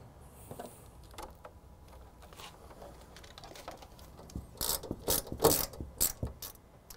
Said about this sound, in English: Now we're going to secure the power supply into the case with four screws on the back.